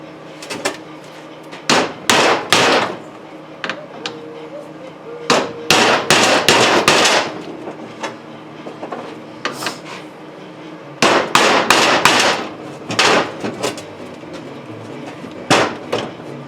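Hammer strikes on a big socket to drive out a U-joint from a hub, sharp metallic taps in irregular clusters of two to four blows separated by pauses, close and loud.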